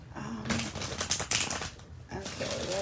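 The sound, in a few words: tarot cards being shuffled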